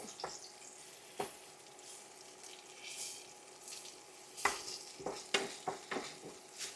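Dried red chillies, Kashmiri or ordinary, fry in hot oil with a continuous crackling sizzle, broken by sharp stirring knocks against the pan that come more often toward the end.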